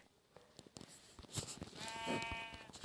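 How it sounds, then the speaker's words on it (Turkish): A sheep in Minecraft lets out a clear bleat, with a few soft clicks and footsteps from the game before it and no talking. "Bir tane daha koyun gördüm."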